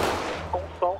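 Gunfire from the video game GTA 5 sounds close and sharp, with two quick shots over a low background rumble.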